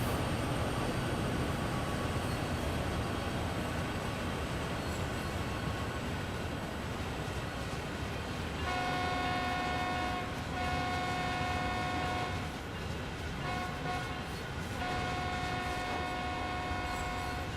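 Long freight train in Train Sim World 5 rolling past with a sustained rumble and repeated steady horn-like tones in the second half, no voices.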